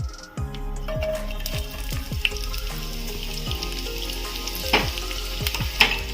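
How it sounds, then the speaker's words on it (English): Onions frying in hot oil in a pan over a high flame, with a steady loud sizzle and repeated clinks and scrapes from stirring, close by and with no talk. "Now heat the pan in a high flame and add some oil to it. Now add onions to it."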